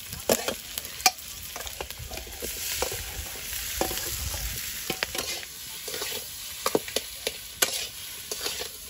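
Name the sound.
tempering five-spice in hot oil with potatoes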